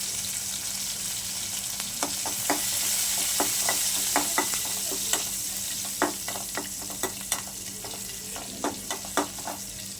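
Crushed garlic, green chili and curry leaves splutter in hot oil for appalam kozhambu, a steady close sizzle dotted with sharp crackling pops and ticks that come more often as it goes on, with no voices.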